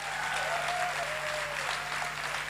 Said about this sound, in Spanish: ¿Cuántos pueden aplaudir al Señor por eso?